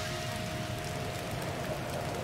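Steady rain pours in Zelda: Tears of the Kingdom, a dense, even hiss of falling drops that stays loud and unbroken, with a faint sustained tone running through it.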